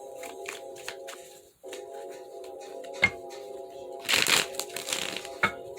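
A deck of tarot cards is shuffled by hand, giving brief riffling and crackling bursts close by over steady background music, loudest in one dense shuffle near the end.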